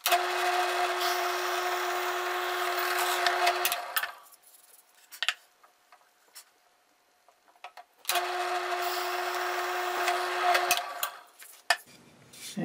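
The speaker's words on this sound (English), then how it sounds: "Now I'll go ahead and drill these two holes." An electric drill fitted with a brad point bit bores two holes through a plate, two steady whirring runs of about four seconds each, separated by a quiet gap with light tapping and handling sounds.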